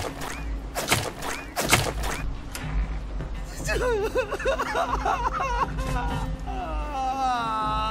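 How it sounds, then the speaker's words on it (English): Loud banging at a bedroom door at night, two or three heavy thuds near the start, followed by a tense, warbling music-like sound with background noise. "I'm awoken suddenly by a loud banging at my door"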